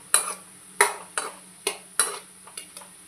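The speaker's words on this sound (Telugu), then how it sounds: "లైట్గా వేగిన తర్వాత ఆనియన్స్ కూడా వేసేసి వేయించేసుకుందాం" Onions frying with salt in a pan, stirred in regular strokes that give about six sharp scraping bursts over a faint steady sizzle, close by and moderately loud.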